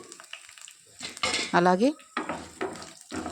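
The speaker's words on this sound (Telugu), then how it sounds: "ఇవి కొంచెం వేయించుకోవాలి." Cumin, mustard seeds and garlic frying in hot oil for a tempering, with crackling sizzle bursts and a spoon scraping the pan nearby, while someone speaks briefly.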